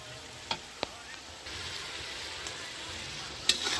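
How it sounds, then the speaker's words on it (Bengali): Onions frying in hot oil in a wok, a steady low sizzle running throughout with a few sharp clinks of utensil against the pan, picking up slightly in intensity partway through. "পেঁয়াজটা লাল লাল করে ভেজে নিচ্ছে।"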